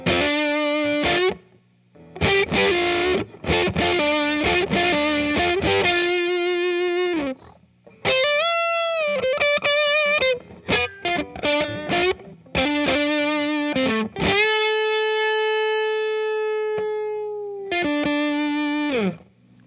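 Electric guitar through a cranked OCD overdrive pedal playing a series of chords and sustained notes, gritty and loud, with short pauses between phrases and a long ringing chord near the end.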